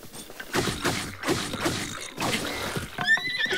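A horse in The Legend of Zelda: Breath of the Wild lets out a loud whinny at the end, following a series of heavy rhythmic impact and splashing game sounds.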